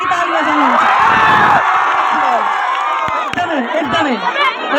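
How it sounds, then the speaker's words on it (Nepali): A school crowd cheers and whoops together, with loud overlapping shouts and excited voices that stay close and sustained. "एकचोटि सबैले आफ्नो लागि ताली बजाउनुहुन्छ"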